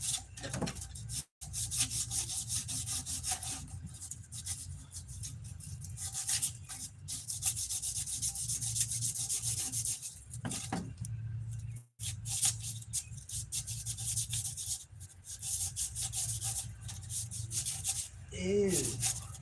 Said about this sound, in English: I'll sand this.